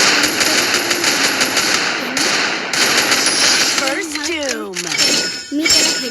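AWM sniper rifle fire in a mobile battle-royale game, sharp loud reports and clinking impacts over busy game audio, with a sweeping tonal effect near the end.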